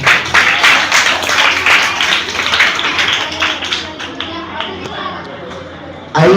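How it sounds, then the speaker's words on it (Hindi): Hand clapping from a crowd at an Independence Day (15 August) school speech event, a steady dense patter of applause that thins out toward the end before a brief louder burst. "एक बार जोरदार हाथ ताली।"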